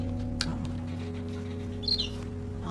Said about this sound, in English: It's a nightingale.